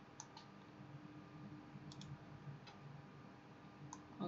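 Mouse clicks in a drawing program while selecting an area: a handful of faint, sharp clicks spread over a few seconds, some in quick pairs, against a low steady hum with no talk.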